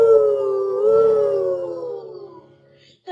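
A voice imitates a train whistle with one long falling "woo", a sustained hooting tone that gradually fades out, loud and close with no other sound behind it.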